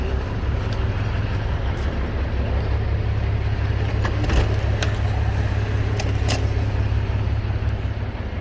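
A black Toyota Vigo pickup's engine runs smoothly with a steady, low, close rumble that carries through the whole stretch, with a few faint knocks on top. No one speaks.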